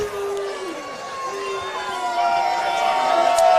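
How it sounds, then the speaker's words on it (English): A football stadium crowd on the press-box side rumbles with scattered jeers and chatter in disapproval of a referee's call on a re-kick, a steady, distant wash of voices that swells slightly toward the end. "the crowd on this side of the ball field where the press box is showing their displeasure with the call"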